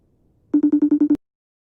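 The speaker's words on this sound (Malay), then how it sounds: "Bunyi panggilan video masuk" An incoming video call ringtone in a radio drama: a short burst of seven rapid, evenly spaced electronic beeps, loud and close, cut off abruptly and followed by silence.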